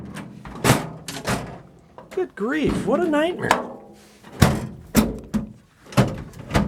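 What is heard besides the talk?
toolbox drawers being closed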